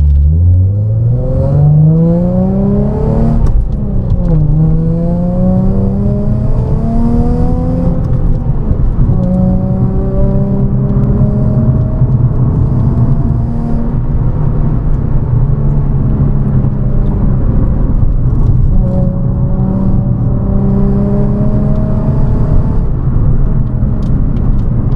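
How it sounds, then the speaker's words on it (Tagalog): A 2008 Nissan 350Z NISMO Fairlady Z heard from inside while driving, its engine droning loudly and steadily, pitch climbing through several gears with shifts between, a constant close cabin roar. "I am driving the Fairlady Z,"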